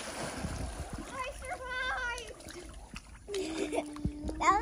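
A child splashes in water while swimming, with scattered light splashes and sloshing under children's chatter and faint background voices.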